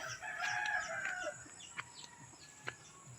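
Backyard chickens, including laying hens, cluck and call faintly at a distance, a short burst of fowl vocalizations followed by a couple of brief sharper calls in quiet outdoor surroundings.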